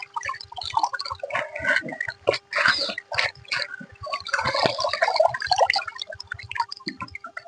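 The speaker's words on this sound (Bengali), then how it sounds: "এই দেখুন পরিষ্কার করে আমাদের চাপা কলে ধুয়ে নিলাম" A vegetable is washed under a village hand pump, with irregular splashing, dripping and gurgling water, plus squeaky clanks of the pump handle, close and moderately loud.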